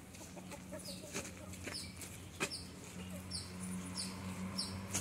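Chickens and a rooster cluck around a rural home farmyard, with scattered short calls and clucks at moderate distance over a faint steady background hum, with no talking.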